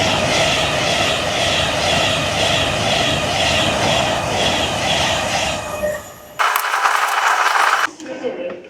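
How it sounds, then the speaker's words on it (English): A train arriving at a station makes a loud, broad rumble and roar that holds steady for about six seconds, then drops away before a short burst of brighter noise and a fade. "Wait for our train."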